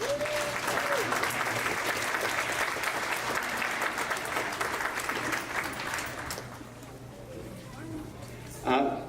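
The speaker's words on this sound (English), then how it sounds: "Let's give them a round of applause." Sustained applause from an audience at a 5th grade orchestra and band concert fills the room for about six seconds, then fades into scattered claps and quieter murmuring, with a brief sharp clap near the end.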